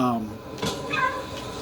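Cat meowing in a PlayStation 4 video game, a couple of short, clear meows close up, with a voice talking around them.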